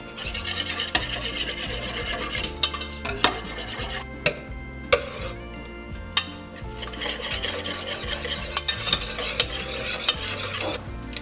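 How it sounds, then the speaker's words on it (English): A whisk scrapes rapidly against a pot on the stove, mixing gelatin and juice in fast rasping strokes with occasional metallic clinks, close and continuous, with no one talking. "I'm gonna add my other cup of juice and whisk it all together"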